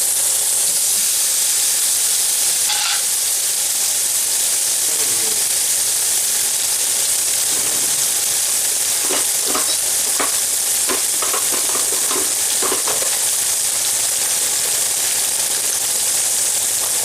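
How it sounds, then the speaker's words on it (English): Steak sizzles steadily in a cast iron pan, a broad continuous hiss with scattered pops and crackles building in the middle, no talking over it. "Let's cook a steak."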